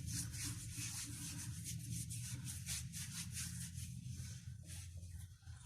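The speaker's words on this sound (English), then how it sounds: "we will just rubbing the hands with the sanitizer" Hands being rubbed together with a glycerol-based sanitizer, giving a steady, close, soft swishing friction that continues without pause, with no talk.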